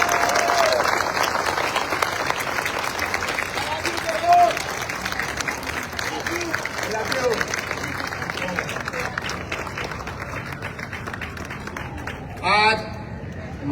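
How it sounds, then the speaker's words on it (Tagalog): Loud, sustained applause from a large audience at a civic event honoring fellow government employees, steady dense clapping throughout with a brief cheer or shout near the end. "pwede bang yung pinakamalakas nyong palakpak para sa kanila?"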